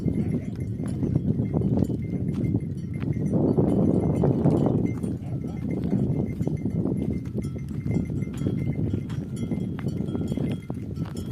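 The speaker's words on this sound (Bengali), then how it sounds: "ছাগলের গলার মধ্যে ঘন্টা লাগানো।" A herd of goats of mixed ages walks along with bells hung around their necks, the bells jingling and clanking irregularly over a steady bed of hooves and rustling, with faint voices in the background.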